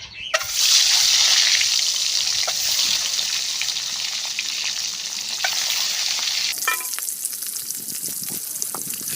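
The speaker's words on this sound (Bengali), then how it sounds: "ডিমগুলো ভাজার জন্য" Eggs seasoned with salt and turmeric sizzle and spatter loudly in a hot pan for egg curry, a steady dense frying hiss with occasional stirring scrapes; the sizzle drops to a quieter crackle near the end.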